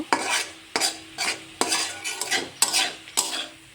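Carrot halwa with raisins and fried nuts being stirred in a pan, a spoon scraping the metal in regular strokes roughly every half second over a faint sizzle, close and clear with no voices.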